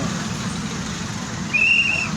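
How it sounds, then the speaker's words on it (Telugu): Steady road traffic rumbles low and continuous at a busy turning, with one short high-pitched tone, like a horn or brake squeal, rising briefly toward the end. "ట్రాఫిక్ చూపిస్తున్నాలే"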